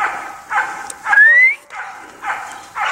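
A hunting dog on a boar hunt gives repeated short barks and yips in bursts, close and fairly loud, with a whining whimper rising in pitch between them.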